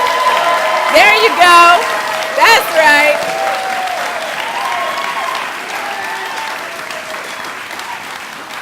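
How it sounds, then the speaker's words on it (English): Audience applause at an evening gathering fills the clip in a steady, loud wash, with someone speaking over it near the start and the clapping gradually easing toward the end. "So let me hear you give some love and some applause right now."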